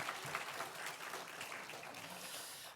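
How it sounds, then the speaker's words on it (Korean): Church congregation applauding during a Thanksgiving Sunday service, a steady, fairly faint wash of clapping from many hands that continues evenly throughout with no clear talk over it. "박수 한번 해주세요."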